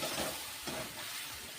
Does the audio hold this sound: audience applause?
no